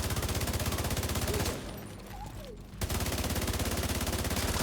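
An exotic Strega assault rifle in The Division 2 fires in rapid automatic bursts, a steady rattling stream that pauses for about a second and then resumes just as loud.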